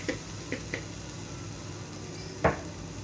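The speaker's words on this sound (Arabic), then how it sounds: "بصوا فيه الميه ازاي بتنشف، بتبقبق اهي" Homemade chili paste (harissa) in a pot, its water cooking off; a few sparse, soft bubbling pops rise over a quiet, steady background hiss.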